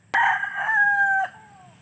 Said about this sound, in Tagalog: Ito yung tinatawag na manok na pula